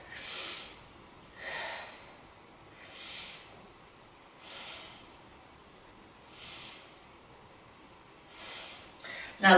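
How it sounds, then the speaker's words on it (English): Slow, steady breaths held during a yoga pose, each inhale and exhale a soft airy whoosh recurring about every second and a half, close and quiet with no talking. "let's take 3 breaths here"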